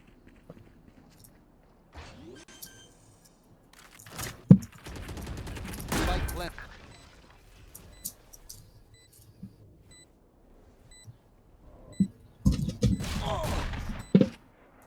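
Gunfire during a competitive Valorant match, scattered sharp shots and brief rapid bursts amid footsteps and ability effects, moderately loud, with a caster's commentary running over parts of it.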